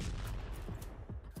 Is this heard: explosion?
yes